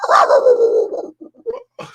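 A service dog lets out one drawn-out, vocal bark-howl, loud and close, followed by a few short soft yips and whimpers.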